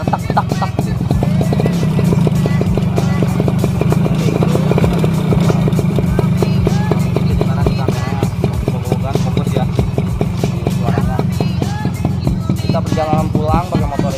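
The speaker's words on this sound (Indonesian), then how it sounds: "Perjalanan pulang pakai motor ini." Motorcycle ridden on the road, its engine droning steadily and loudly throughout with a constant rumbling hum and continuous wind and road noise, no voices heard.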